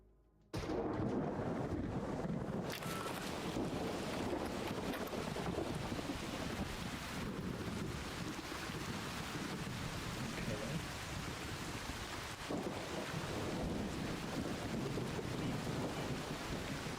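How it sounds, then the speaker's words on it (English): Storm wind and heavy rain roar steadily in the video game Arc Raiders, a dense, loud broadband wash that starts abruptly after a brief quiet moment and holds without pause. "an electromagnetic storm is currently raging over Topside"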